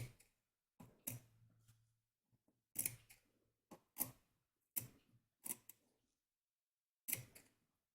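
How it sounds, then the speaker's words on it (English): Sharp fabric scissors trimming excess quilting fabric and batting close to a stitch line, a series of crisp separate snips at an irregular pace with quiet gaps between, close and clear. "You want a really nice sharp pair of scissors for this."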